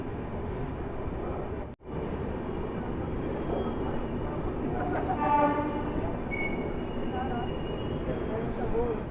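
Telangana Express train passing through Itarsi station, a steady loud rumble of wheels and carriages throughout, with brief tonal horn-like notes partway, a short dropout near the start.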